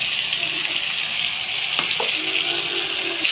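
Steady, loud sizzling as spice paste hits chicken frying in hot oil, with a brief stirring scrape partway through.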